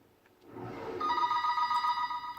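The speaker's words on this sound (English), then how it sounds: "When the phone rings here" A telephone rings with a steady electronic trill, the tone swelling in after a brief quiet start and holding loud and continuous.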